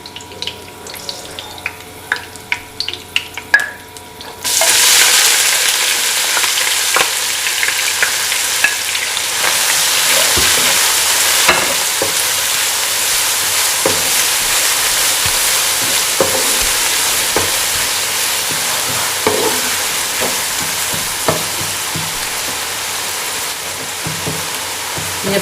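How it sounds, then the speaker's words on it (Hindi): Finely chopped onions hit hot oil in a pan for mutton karahi and sizzle loudly and steadily, with occasional stirring scrapes through the long continuous frying. "जैसे थोड़े से फ्राई होंगे, रोस्ट होंगे, तो साथ ही हम प्याज डाल रहे हैं।"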